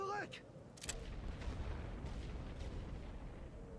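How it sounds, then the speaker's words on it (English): Artillery booming in the World War I strategy game The Great War Western Front, a sharp burst early on followed by a continuous low rumbling barrage, fairly distant and subdued, with faint chatter at the start. "Let's get some artillery involved here."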